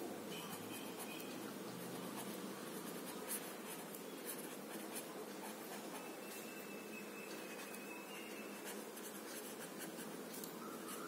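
Chalk scratches across a classroom board in steady, faint strokes during a maths lesson, with soft background noise and no talk.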